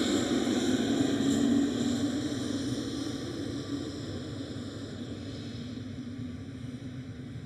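A KLM Cityhopper Embraer E195-E2 jet airliner at Schiphol gives a steady, broad engine roar that slowly fades as it moves off, heard from a distance with no talk.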